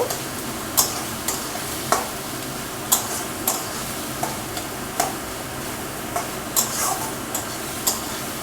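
Onions fry in a pan on a gas stove while a utensil stirs them, a constant hiss of sizzling oil broken by regular sharp scraping clicks roughly every half second to second, close and loud, no talking.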